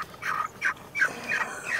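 Poultry calls from birds at a market stall selling chickens and fish, a series of short, fairly loud squawks and clucks over steady background noise.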